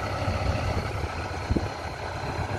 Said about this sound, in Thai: พ่อขับรถไถเก่งมากเลยอ่ะ